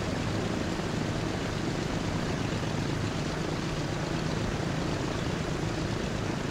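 Simulated airplane in the Transport Fever game touching down slowly on a runway, a continuous loud propeller-engine drone that stays steady and close throughout, with no voices over it.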